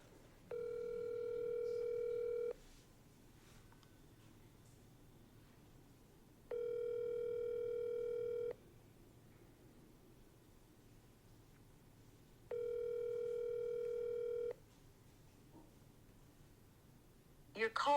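Ringback tone from a phone call to an executive at a large radiology firm: three steady two-second electronic rings separated by long silent gaps, clear and alone.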